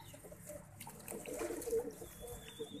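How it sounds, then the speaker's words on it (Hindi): Caged pigeons cooing softly in a low, rounded murmur amid faint background noise, with occasional light chirps and a thin high tone drifting in late. "कैसा कैसा कबूतर बना हुआ है यहाँ।"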